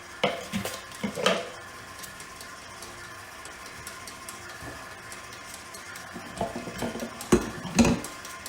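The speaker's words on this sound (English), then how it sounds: "take your 4 cups of powdered sugar, dump it in there. Let it mix." A mixer turns powdered sugar into melted brownie frosting in a bowl, with clinks and scraping knocks against the bowl at the start and end and a low whir between.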